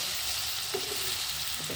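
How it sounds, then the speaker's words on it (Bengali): Radish and potatoes fry and sizzle in a pan while being stirred, a steady close hiss with a few scraping stirs of the spatula, no voices. "ঢাকনা খুলে খুলে একবার ভালো মতো একবার নাড়িয়ে চাড়িয়ে নিতে লাগবে"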